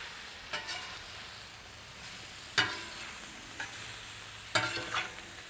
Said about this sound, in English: I want to take this meat, put that over into there. Now we just want to give all of this a good mixing in